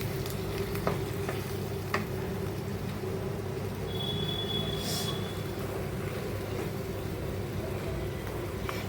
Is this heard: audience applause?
no